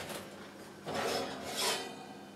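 A cast iron frying pan is pulled from a preheated oven, giving a couple of scraping metal slides against the rack with faint clinks, fairly close and quiet.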